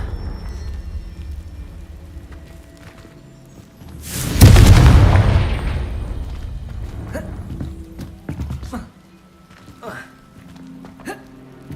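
A single booming blast from the Confringo explosion spell in a wizard school video game, a sudden loud burst that decays over a few seconds, with scattered thumps and game sounds around it.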